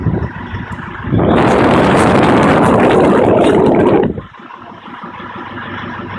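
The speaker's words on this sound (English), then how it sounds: "So you can hear there that it picks up your revs just to warm the engine a bit quicker" A 2011 Nissan Patrol ST with a 3.0-litre turbo diesel idles, then its warm-up mode raises the revs into a loud, steady roar for about three seconds before it drops back to a quieter idle.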